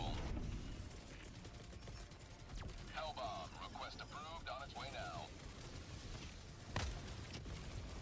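An in-game 120mm artillery barrage in Helldivers 2 lands during an Automaton city mission, heard as scattered distant booms and thuds over a steady roar of battle noise.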